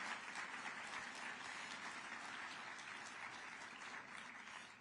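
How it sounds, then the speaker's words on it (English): An audience gives a round of applause for speakers at a public program, a dense, steady wash of clapping from many hands that holds evenly throughout and fades slightly at the end. "how about one more round of applause for all the speakers"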